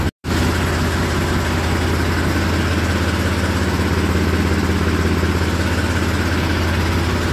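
A tractor engine runs in a continuous, even idle-like throb, loud and close, after a brief cut at the very start, with no talking.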